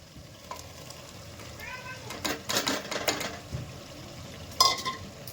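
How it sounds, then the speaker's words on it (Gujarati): Tomato gravy sizzling in hot oil in a pan while cooking tuver totha, with soft frying crackle, a few bursts of stirring scrapes and clinks, and quiet background chatter. "હવે આ સ્ટેજ ઉપર આપણે ટામેટાની ગ્રેવી અંદર એડ કરી દઈશું."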